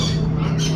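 A large bird, an ostrich, lets out a loud, continuous squawk close by, steady and harsh for under a second with no other sounds around it.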